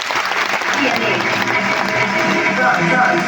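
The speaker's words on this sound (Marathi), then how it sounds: "एकदा तुमच्यासाठी जोरदार टाळ्या झाल्या पाहिजे" An audience at a motivational lifestyle event claps loudly and continuously, a dense burst of applause with a voice speaking over it.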